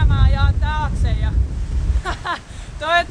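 Strong wind buffets the microphone on a windy day in the wilderness of northern Finland, a loud low rumble rising and falling under a person talking.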